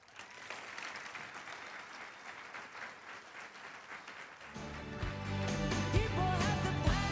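Audience applause for two speakers at an evening dissent event, steady broad clapping that swells louder and denser in the second half, with music or tonal sound entering underneath.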